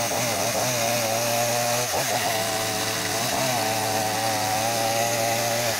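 A chainsaw cuts a window opening through a wooden log wall, running continuously loud and close with a steady high whine that briefly dips in pitch as the chain bites into the wood.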